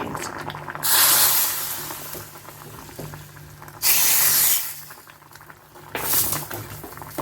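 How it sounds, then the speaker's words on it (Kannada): A tempering of mustard seeds, cumin and asafoetida sizzles in hot oil for a beans dish. The loud hissing crackle comes in three bursts, each fading to a lower simmer in between. "ಇವಾಗ ಇದಕ್ಕೊಂದು ಒಳ್ಳೆ ಒಗ್ಗರಣೆ ಹಾಕ್ತಾ ಇದ್ದೀನಿ ಸ್ವಲ್ಪ ಸಾಸಿವೆ ಮತ್ತು ಒಂದು ಕಾಲು ಚಮಚ ಆಗೋಷ್ಟು ಜೀರಿಗೆ ಎಣ್ಣೆ ಮತ್ತು ಇಂಗು"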